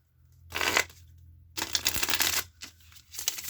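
Tarot cards being shuffled by hand in a few rapid riffling bursts, with short pauses between them, close and fairly quiet.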